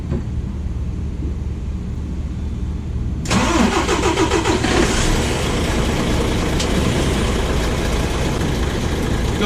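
A DAF XF truck with an MX-11 diesel engine cranks and fires after a few seconds of quiet background, then settles into a loud, steady idle close by.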